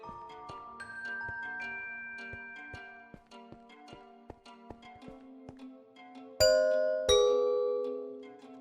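Soft chiming melodic tones ring through, then two louder doorbell chimes from Minecraft strike near the end, clear and close with lingering decay.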